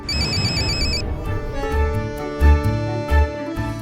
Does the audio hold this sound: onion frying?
no